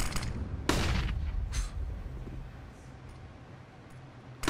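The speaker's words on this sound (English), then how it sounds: "Gunshots in all directions." Gunfire in Counter-Strike: Global Offensive, a loud shot at the start followed by scattered bursts and fainter rattling shots from several directions, fading into a low rumble before another shot cuts in at the end.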